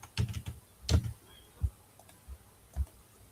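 Keys tapped on a computer keyboard while solving a crossword, a quick burst of clicks followed by a few scattered single keystrokes, close and fairly quiet in a still room.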